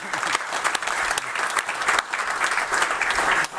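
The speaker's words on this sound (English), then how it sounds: "That deserves a round of applause right there" Crowd applause at a police officer awards ceremony, steady, dense clapping from many hands, fairly loud and close, lasting several seconds with individual sharp claps standing out.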